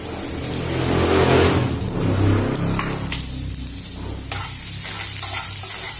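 Chopped onion frying in hot oil for a Goan sardine koshimbir, a loud, busy sizzle with scraping stirs and clinks of a spoon against the pan. No one speaks.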